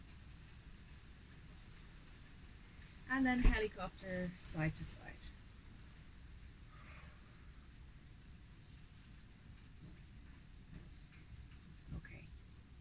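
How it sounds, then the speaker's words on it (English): Soft, steady rainfall hisses faintly in the background while a person speaks calmly over it during a yoga session. "Here comes the rain."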